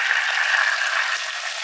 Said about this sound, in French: vous pouvez déjà incorporer les carbonates pour les faire dorer de chaque côté